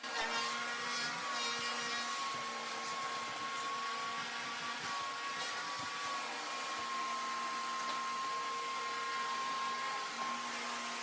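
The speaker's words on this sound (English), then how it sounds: "there's nothing like a corded vacuum to get all of this fur up" Corded vacuum cleaner picking up pet fur from furniture, giving a steady, close whining drone with a sustained tone that holds unbroken throughout, no talking.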